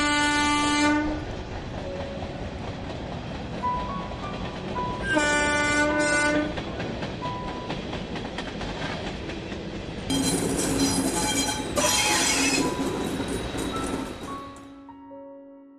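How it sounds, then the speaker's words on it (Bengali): A train leaves a rural village station on a stormy night, sounding repeated loud horn blasts over the steady rumble and clatter of wheels on rails, which fade near the end. "রাস্তা পরিষ্কার হলে একসময় ট্রেন ছাড়ল।"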